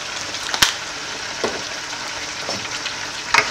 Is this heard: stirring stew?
yes